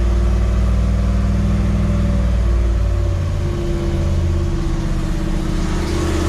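A Camaro engine, started without a choke, runs loud and close with steady low rumble, its pitch shifting partway through as it revs up and settles into a rougher, higher idle; no one speaks.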